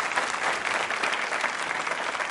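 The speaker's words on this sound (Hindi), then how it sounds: "तालियां बजाइए जोरदार तरीके से।" A crowd at a Ganesh Chaturthi quiz show applauds vigorously, a thick, even roar of many hands clapping continuously throughout, with no voices standing out.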